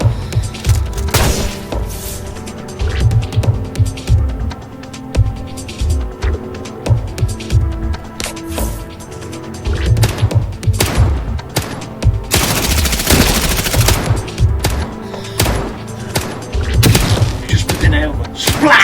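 Video game gunfire in a shooter advert, repeated bursts and single heavy shots with thuds over about nineteen seconds, loud and uneven, with a dense volley near the middle.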